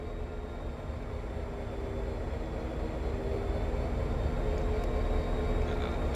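Head-end power on a Boston commuter train in Train Sim World 2 starting up, a steady low electrical hum and rumble that builds slightly in loudness and holds, with no talking.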